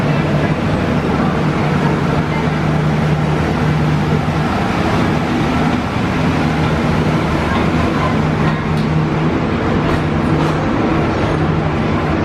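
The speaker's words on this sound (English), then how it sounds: "You can see the train is now arriving." Disney's Animal Kingdom train pulling into Conservation Station, a steady loud rumble of wheels and engine with low droning tones that holds throughout, with no clear talk over it.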